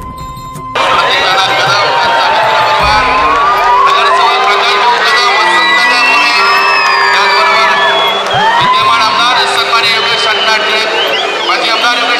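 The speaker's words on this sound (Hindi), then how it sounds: "होता है तो जितने भी लोग थे वहाँ वो एकदम पागल हो गए थे, इतना ज़ोर से सब चिल्ला रहे थे।" A large outdoor crowd cheers, shouts and whoops continuously and loudly, with children's voices among them, as an Indian flag is raised by crane on the highest flagpole in Pune at Katraj Lake during an Independence Day celebration.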